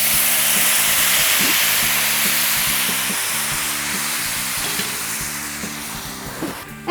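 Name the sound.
mushrooms and onions cooking in sauce with stock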